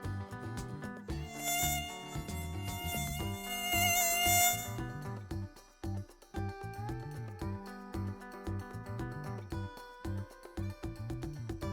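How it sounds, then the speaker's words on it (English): Mosquito buzzing, a high whining drone that holds steady and loud for several seconds, then carries on with wavering pitch under musical accompaniment. "Mosquito"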